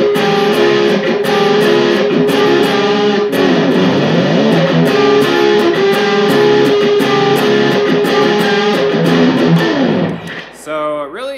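Distorted electric guitar plays a riff, loud and continuous with repeating rhythmic chops, then cuts out near the end.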